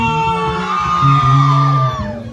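A loud, sustained group shout from a crowd of women, rising into a long whooping cheer that holds steady for a couple of seconds.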